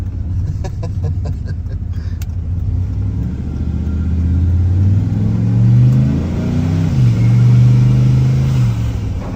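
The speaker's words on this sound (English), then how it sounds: "I'm gonna turn the heat down a little bit so we can hear the turbos better." Turbocharged car accelerating on a below-freezing drive, heard from inside the cabin: a steady loud engine drone rising in pitch through the gears, with a faint whistle of turbo spool over the rumble.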